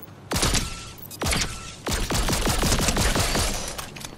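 Rapid bursts of lock-on pistol gunfire in Fortnite, several quick volleys of sharp shots fired in close succession, loud and alone with no talk.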